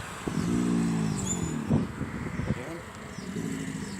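Alligators bellow in low, rumbling, engine-like drones resembling a revving motorcycle, heard nearby from a boardwalk behind a fence, with a few shorter grunting bursts and people talking over them.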